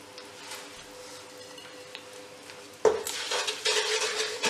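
Quiet scraping of a utensil through onion-tomato paste with salt, chili and turmeric roasting in a pan for Punjabi karhi, then a sudden louder burst of sizzling and stirring clatter in the final seconds.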